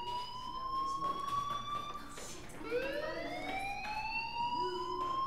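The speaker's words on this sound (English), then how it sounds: "Do you hear that fire alarm?" Fire alarm ringing in the video game Life is Strange: a loud, steady electronic tone that holds, swoops upward and repeats over a faint room background, with no one talking.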